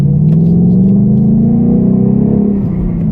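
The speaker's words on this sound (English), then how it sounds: "That's how you leave corners in a Mustang" Ford Mustang accelerating out of a corner, a loud close engine rising in pitch in one sustained pull before easing off near the end, with no talk over it.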